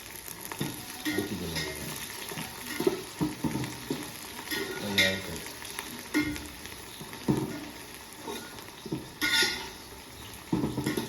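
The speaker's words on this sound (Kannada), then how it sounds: "ಎಣ್ಣೆಲೆ ಅದು ಚಟಪಟ ಅಂತ ಫ್ರೈ ಆಗುತ್ತಲ್ಲ" Ingredients crackling and popping as they fry in oil in a pan, a soft, uneven sizzle with scattered pops and the occasional stir or scrape, fairly faint throughout.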